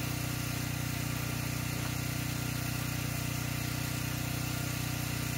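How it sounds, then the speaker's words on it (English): A generator runs steadily on an off-grid farm, a constant droning engine hum with a mid-pitched rumble that never changes, heard alone at a moderate distance with no voices over it. "Sorry about the generator noise in the background."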